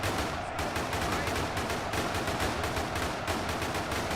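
Sustained machine-gun fire from an MG42 in the modded battle simulator UEBS 2, a dense, continuous clatter of rapid shots with overlapping gunfire running loud and unbroken throughout.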